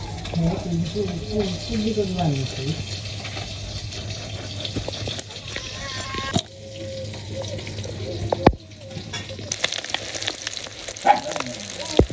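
Pieces of hilsa fish frying in a pan, a steady sizzle that runs under intermittent talking, with some water and handling noises and a couple of sharp knocks.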